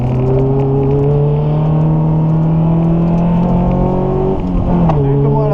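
Race car engine at full throttle on the Magny-Cours circuit during a Classic Days session, a loud sustained drone climbing steadily in pitch, with a brief dip and gear change near the end, heard close from inside or on the car.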